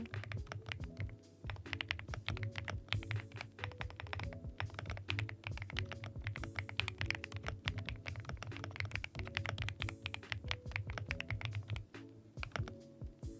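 Rapid, continuous typing on a keyboard with creamy, pebble-like keycaps makes a dense stream of soft, rounded clacks, heard close and steady throughout with no voices.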